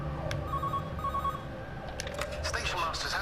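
A telephone in the video game Everybody's Gone to the Rapture rings in two short trilling bursts, moderately loud over a soft ambient hum, with game sounds clattering in afterward.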